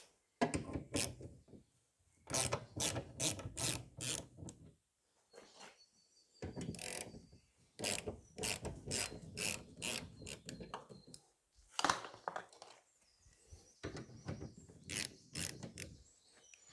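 Ratchet with a 10mm socket working on the door of a VW T5 van for a central locking motor repair, close bursts of rapid clicking strokes separated by short pauses.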